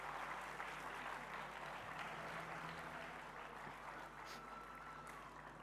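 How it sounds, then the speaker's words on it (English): Sustained applause from a conference audience welcoming dignitaries to the dais at a Y20 consultation in Bengaluru, a steady dense clapping that holds at an even moderate level throughout with no voices over it. "kindly give a big round of applause to welcome our guests"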